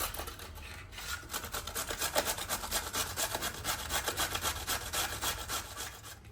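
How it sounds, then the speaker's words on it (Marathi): Carrots being grated for kheer, a quiet close rhythmic rasping of quick repeated strokes against a grater, steady throughout with no talking. "आपण हे गाजर किसून घेऊयात."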